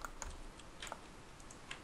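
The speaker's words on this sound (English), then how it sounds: "I have a mechanical keyboard now, so if you can hear that" Typing on a mechanical keyboard, a scatter of sharp, fairly quiet clicks at an irregular rhythm over low background hiss, with no talking.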